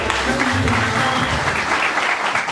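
Audience clapping at a couple's celebration program, a dense sustained round of applause from a crowded room, loud and continuous throughout.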